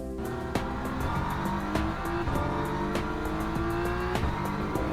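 A BMW M4 GT3 race car in Le Mans Ultimate at Interlagos revs hard and steadily, its engine note climbing through the gears with sharp crackles at each shift, close and loud with no voices.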